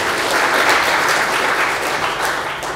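A church congregation bursts into sustained applause during an Indonesian sermon, a thick, continuous wash of many clapping hands at steady loudness throughout.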